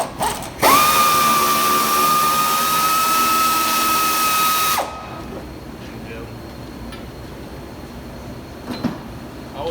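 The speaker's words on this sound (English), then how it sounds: "Got a air ratchet. Take it out with it." An air ratchet spins out bolts during transmission removal on a 2005 Ford F-150 4x4, one loud sustained whirring burst lasting several seconds with a steady whine, then quieter workshop noise with light clanks.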